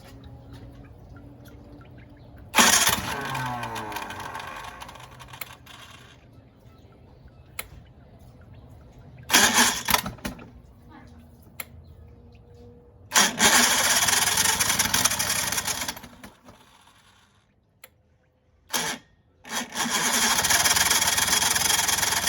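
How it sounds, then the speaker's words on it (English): A 1965 75 hp Johnson vintage outboard motor is pulled and sputters to life in several bursts, revving loudly, cutting out, then restarting and running steadily between pauses. "I'm gonna try and start it again just to make sure it runs after wetting down the engine"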